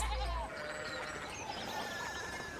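Sheep crowd a Bavarian town in the game Pentiment and bleat in a few wavering cries over a low background drone, moderately close, with no voices over them.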